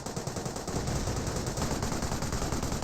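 Machine gun fire from an MMG carrier in the Company of Heroes video game: rapid, continuous bursts of rattling shots, loud and dense throughout with no voice over it.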